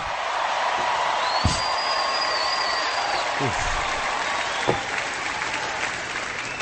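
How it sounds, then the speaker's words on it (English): A crowd applauds during a radio show's convention coverage, a continuous dense roar of clapping at moderate distance with a few louder peaks and faint voices underneath. "Cheap applause."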